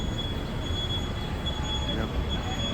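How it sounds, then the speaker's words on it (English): A train rumbles past in a downtown city street near Queen and Church, a steady loud roar with a faint high metallic whine over it. "We have another train going up"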